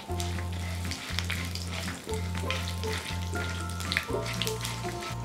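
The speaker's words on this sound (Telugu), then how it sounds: "ఆవాలు జీలకర్ర వేగిన తర్వాత 2-3 ఎండుమిర్చి వేసుకోవాలి." Mustard seeds, cumin and dried red chillies fry in hot oil with a steady close sizzle and crackle, while a low hum runs underneath throughout.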